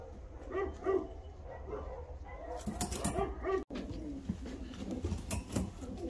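Fancy show pigeons, including Arab post pigeons, coo softly nearby in repeated low calls, with some fluttering and rustling in the background.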